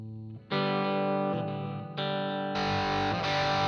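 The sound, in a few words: guitar through an effects unit with distortion and delay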